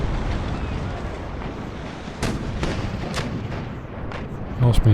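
Naval cannon fire from sailing ships in Empire Total War, a run of loud booming shots in irregular succession over wind and water, some overlapping, with a heavier rumble at the end.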